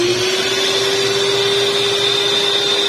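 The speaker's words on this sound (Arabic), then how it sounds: "نشعلو الباتور تاعنا ونضيفو الكمية كامل تاع الزيت" Electric mixer beating a cake batter of eggs, sugar and oil, a loud steady whir with a constant motor whine running unbroken throughout, close up and alone.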